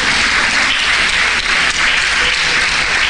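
A church congregation claps loudly during a Spanish-language sermon about Carnival, a thick continuous wash of applause filling the whole short stretch.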